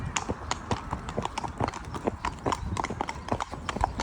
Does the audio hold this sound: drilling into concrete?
no